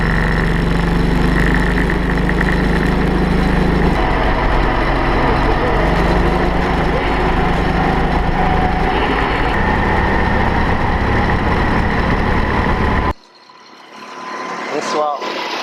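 A four-stroke go-kart engine runs loud and steady on a circuit for most of the clip, droning with pitch shifts under talk, then cuts off abruptly near the end, leaving quiet background.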